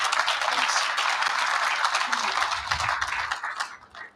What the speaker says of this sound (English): that deserves, I think, a round of applause